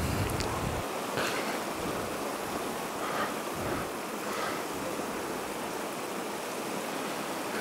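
A fast-flowing mountain stream rushes steadily, a dense, even roar of churning water close by, with small splashes rising and falling but no pauses and no voices.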